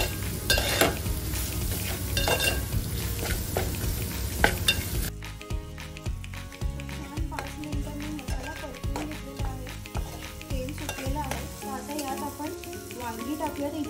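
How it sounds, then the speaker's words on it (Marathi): Spices with turmeric are stirred and frying in a pan over low heat, a soft sizzle under scraping utensil strokes, close and fairly quiet; earlier a louder sizzle gives way to rhythmic stirring. "छान मिक्स करून घ्यायचं आणि 5 मिनिटं आपण मंद आचेवर हळद शिजू देऊया."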